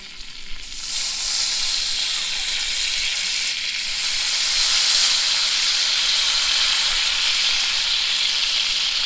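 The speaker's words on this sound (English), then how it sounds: "Just put a little bit in with the butter and see how that is." Soy sauce hits melted butter in a pan at a campsite, bursting into loud, steady sizzling and frying hiss that holds throughout, close and continuous.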